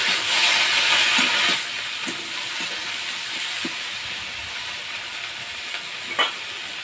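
Eggplant, sweet potato and green chillies go into a hot pan for a Bengali leafy-greens curry, a strong broad sizzle at first that settles into a steady hiss with a few faint stirring clicks.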